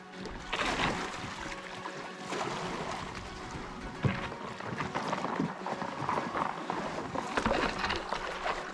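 A canoe is pushed off and paddled on a river in Big Bend National Park, with soft irregular splashes and hull knocks, water trickling throughout at moderate distance.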